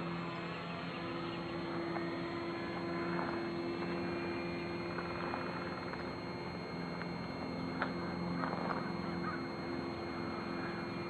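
A drone's motors hold a steady, even whine near half throttle, a constant mid-level tonal hum with faint background noise and no speech.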